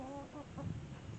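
Hens cluck in a few short, throaty calls close by, a quick run of bird sounds over a soft farmyard background.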